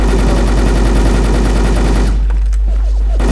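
Dense, continuous rapid gunfire fills a video game clan battle, loud and near, thinning briefly near the end before resuming.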